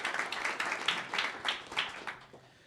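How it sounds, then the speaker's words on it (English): Applause from a health care conference audience for a provider panel, a moderate crowd clapping in a fairly even, slightly distant patter that gradually tapers off. "Another round of applause for our panelists"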